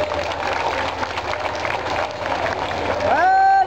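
An audience at a competition show bursts into sustained, dense applause that fills the room evenly for several seconds, with a brief tonal sound rising over the clapping near the end.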